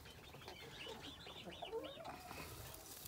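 A brood of chicks chirps repeatedly in quick rising peeps, with hens clucking softly underneath, close and steady over a few seconds.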